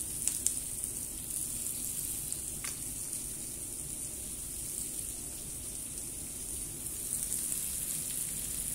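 Onion with green chillies and curry leaves sizzles steadily in hot oil, a soft, continuous frying hiss close by with no talking.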